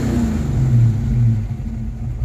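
Ford Mustang V8 engine, newly fitted distributor and timing set, revving up and settling back to idle; a steady deep rumble swelling around the middle and easing off, close and loud, with no voices.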